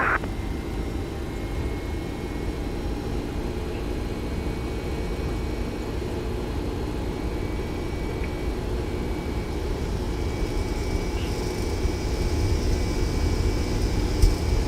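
Boeing 767 jet engines on the takeoff roll in X-Plane 11, a steady loud roar that swells slightly as the run goes on.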